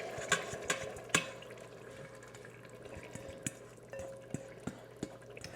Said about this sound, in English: And we're going to add the tomatoes and all of their juices.